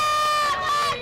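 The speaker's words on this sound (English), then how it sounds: "Hearing the girls cheer drives her to play her best." A girls' team cheers at a match. There is a brief, high, sustained shout over crowd noise, loud and close.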